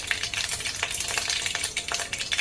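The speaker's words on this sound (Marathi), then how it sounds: "तेल गरम झालेलं आहे पाव चमचा मोहरी घेतली आणि पाव चमचा जिरे घेतलेले आहेत तेलामध्ये छान फुलू द्यायचे आहेत" A quarter teaspoon each of mustard seeds and cumin splutter in hot oil, making a dense, close crackle of rapid little pops over a constant sizzle.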